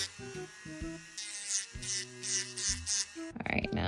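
An electric nail drill with a sanding band files the smile line of a false nail, whirring in short on-off bursts close up.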